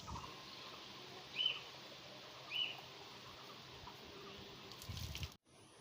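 Water from a 12 V DC pump runs into a one-litre container in a faint, steady trickling hiss, with a bird chirping twice nearby before the flow abruptly cuts off.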